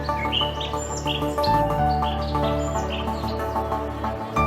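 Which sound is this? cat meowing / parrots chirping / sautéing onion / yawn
parrots chirping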